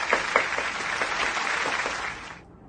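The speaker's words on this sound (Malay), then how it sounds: "cikgu nak kamu semua berikan tepukan yang sangat gemuruh kepada Nabila" Classmates give a student a round of applause in a classroom, a lively patter with a few sharper claps standing out before it cuts off abruptly near the end.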